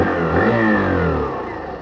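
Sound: Hero Glamour 125 motorcycle exhaust note revving

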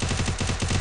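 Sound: gunfire in a video game

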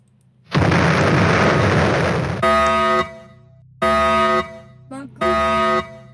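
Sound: explosion in Roblox Brookhaven video game

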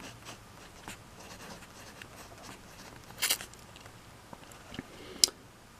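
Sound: sketching a cartoon alligator drawing

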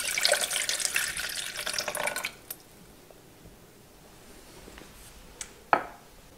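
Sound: water running from a tap into a pot

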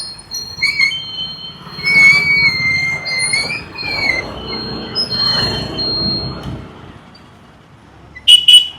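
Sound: train at railway station

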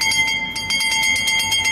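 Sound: bell rung for the final lap of a race walk

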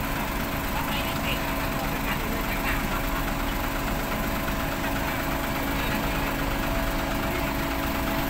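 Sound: Sumitomo asphalt paver engine running

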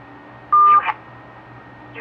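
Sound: phone keypad tones entering voicemail password

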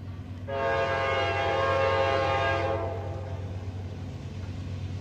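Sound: CSX freight train Q138 with SD40-3 locomotives passing, horn

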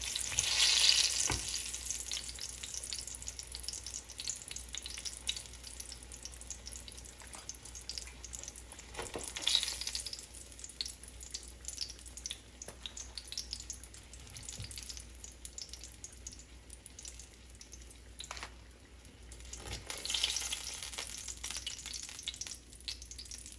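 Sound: frying green tomatoes

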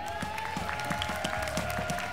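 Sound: audience applause

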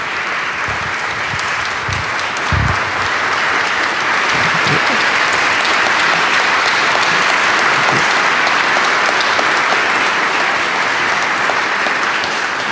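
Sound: audience applause for speakers

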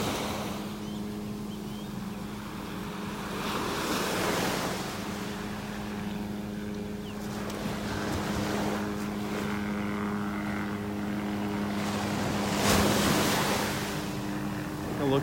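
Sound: ocean waves on beach in North Naples, Florida

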